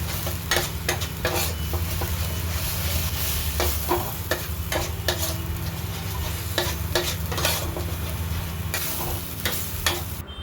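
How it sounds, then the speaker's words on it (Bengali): Ground spices (turmeric, chili, coriander and cumin powder) sizzling and being stirred in a pan for a cabbage and fish head dish, with steady frying hiss and repeated scraping strokes of a spatula throughout. "আবার খুব ভালো করে কষাতে থাকলাম।"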